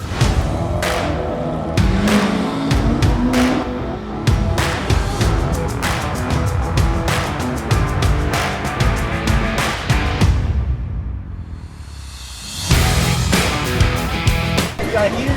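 Race cars at the Ineos Super Sprint at Okada Manila, set against a city skyline, roar loudly and continuously with repeated sharp revs and gear shifts, engines passing close by.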